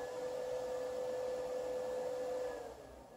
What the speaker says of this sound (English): This is the sound of my computer.